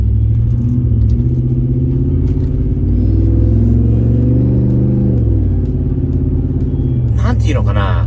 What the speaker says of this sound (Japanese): ちょっと、これから加速します。